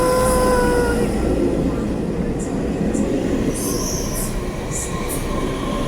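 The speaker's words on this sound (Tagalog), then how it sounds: "Ayan na yung train. Coming na." A long white train pulls into a station in Jiufen, Taiwan, with a loud, steady rumble of rolling wheels and high squeals from the wheels braking, while people talk nearby.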